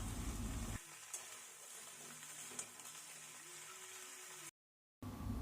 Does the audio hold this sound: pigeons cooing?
no